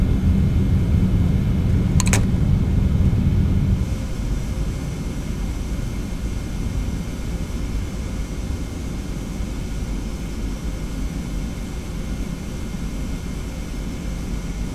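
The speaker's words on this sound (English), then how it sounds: "bring the throttle all the way back, if you haven't already, and activate the reverse thrust" Reverse thrust roars from a Boeing 717-200 after landing in the TFDi flight simulator. A loud, steady broadband rush is heaviest for the first four seconds, then eases to a lower sustained roar, with a brief click near two seconds.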